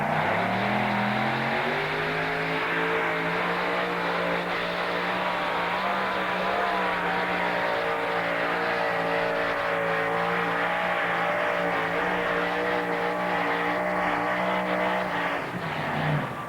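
Bearfoot monster truck from 1985 roaring through a truck pull run at Teays Valley, a loud sustained engine drone with rising and falling pitch that holds throughout and drops off at the end.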